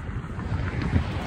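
Steady outdoor wind buffets the microphone with a continuous low rumble and rushing noise during a frisbee game, loud and close with no speech.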